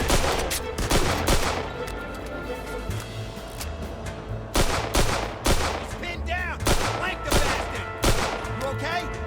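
Repeated gunfire from a weapon in the crime game Mafia 2, with sharp shots in uneven bursts over a busy game soundscape and faint voices underneath.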